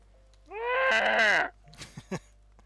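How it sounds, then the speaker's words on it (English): A goat bleats once in Final Fantasy XIV, a loud, near, wavering cry lasting about a second, followed by a few soft clicks. "And apparently a goat."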